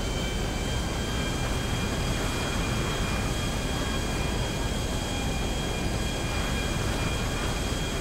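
A steady, dense airplane engine roar in GTA5 drones on without pause, a broad rumble with a faint high whine, loud and constant throughout.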